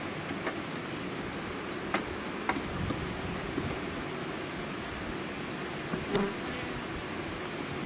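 Honey bees from a package hum in a low, constant drone inside a hive during installation, with a few faint clicks and taps from handling the frames and no talking.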